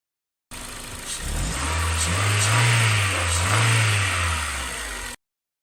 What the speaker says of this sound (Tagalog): Umaandar naman ang makina, kahit sira o may putol sa mga wire ng map sensor.